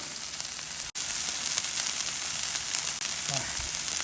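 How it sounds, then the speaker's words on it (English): White onions sizzle on a Blackstone 17-inch E-Series griddle, a loud, continuous hissing fry that stays steady throughout with a couple of brief dips. "We'll put some white onions down. I'm going to grill these up."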